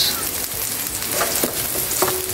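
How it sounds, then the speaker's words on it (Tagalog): Chopped garlic and onion frying in oil until golden brown, a steady, close, loud sizzle with light stirring scrapes throughout and no voices. "Golden brown na yung bawang at saka sibuyas."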